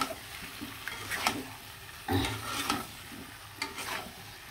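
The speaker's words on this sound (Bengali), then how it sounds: "দিয়ে ভালো করে এভাবে নাড়াচাড়া দিয়ে দিবেন" Chicken pieces stirred into fried spice masala in a pan, with a few scraping strokes of a spoon and a soft sizzle underneath, close and moderately loud.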